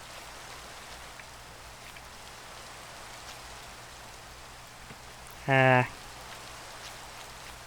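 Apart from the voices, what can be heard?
rain falling in Minecraft video game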